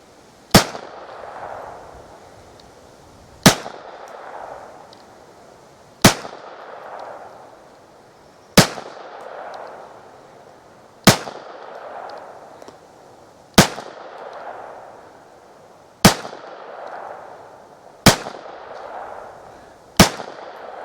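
Single .22lr rifle shots from a Winchester Super X firing Red Rattlers ammunition, nine sharp cracks spaced about two to three seconds apart, each followed by a brief ringing decay, with quiet between.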